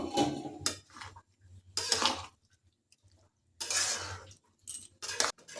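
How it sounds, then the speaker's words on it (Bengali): Mixed vegetables and spices are stirred in a pot for a navratan-style dish, with intermittent scraping and clinking of a spoon against metal separated by quiet gaps, close and moderately loud. "সবজিগুলো ভালো করে মশলার সাথে মিশিয়ে নিচ্ছি।"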